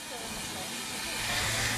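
Steam train hissing steam, a steady broadband rush sustained throughout with low rumble underneath and a faint voice present.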